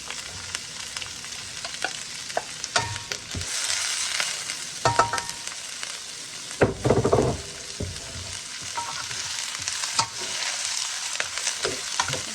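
Steady sizzling in a hot pan with repeated scraping and clattering as broccoli and onions are stir-fried and tossed, fairly close, no talking.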